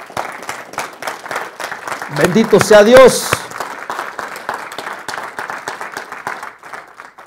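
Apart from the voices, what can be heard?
applause for God in church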